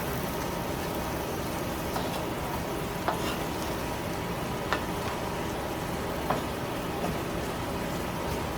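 Spinach and canned mushrooms fry in a pan for a frittata with a dense, steady sizzle, like light rain, and a few faint scrapes of stirring throughout, close and continuous.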